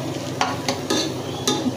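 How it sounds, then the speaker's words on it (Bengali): A spatula scrapes and stirs spice paste frying in a pan for a chicken curry, with four or five distinct stirring strokes over a low, steady sizzle. "এখন আমার পেস্টটা ভাজা হয়ে গেছে।"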